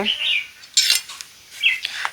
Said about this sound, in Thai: ต่อมาเราก็จะมาหั่นมะกรูดหรือมะนาว